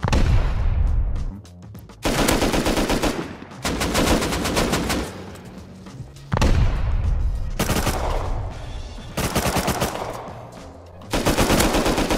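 Raiders firing guns in the survival game Rust, loud sustained bursts of rapid automatic gunfire arriving in repeated volleys with brief gaps between them.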